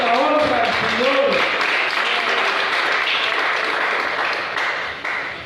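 Loud, sustained applause fills a church as the congregation claps for the Lord, with the preacher's voice briefly heard over it at the start before the clapping carries on strongly and tapers slightly at the end.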